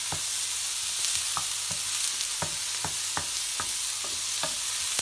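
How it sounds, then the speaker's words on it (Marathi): Paneer bhurji with spring onion being stirred in a hot pan: a constant bright sizzle with a series of sharp spatula scrapes and taps in an uneven rhythm, close and alone. "पूर्ण छान ढवळून घ्यायचं आहे।"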